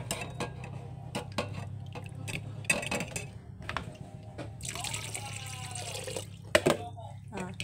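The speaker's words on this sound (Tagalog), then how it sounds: "ang gagawin natin ay huhugasan para ba hindi magdikit-dikit yung pearl" Cooked tapioca pearls are rinsed under running tap water, with a steady splashing stream swelling near the end amid scattered clinks and taps of a utensil and bowl.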